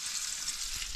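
Scored fish sizzles and spits in a hot pan on an off-grid homestead, a steady close frying hiss with no talking.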